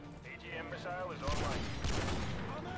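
A claymore detonates in Call of Duty: Modern Warfare 2, a loud, broad burst arriving about midway and rumbling on to the end, with a voice talking over the first half.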